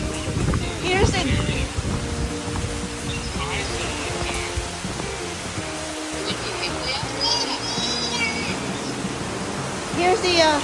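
Typhoon floodwater rushes steadily down a street in Novaliches, Quezon City, roaring nearby while people talk over it.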